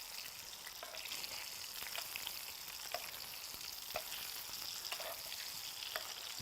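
Salmon fries in a pan with a steady close hiss of sizzling fat, broken by faint ticks and spatters as hot fat is spooned over the fish.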